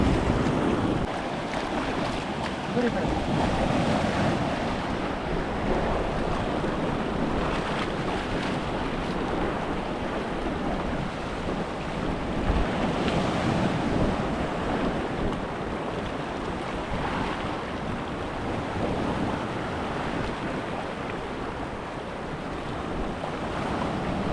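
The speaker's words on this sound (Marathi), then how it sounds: "समुद्राचं पाणी इतका वरती आला की सर्व दगड पाण्याखाली गेलेत" Sea waves wash over a rocky Mumbai shore at high tide, the stones submerged, making a continuous loud broadband roar of surf with wind buffeting the microphone and no voices.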